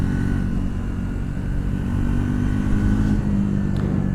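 A Triumph Speed 400 MY25 motorcycle cruises along at a steady pace, its engine giving a continuous even drone mixed with road and wind rush, loud and close with no voices.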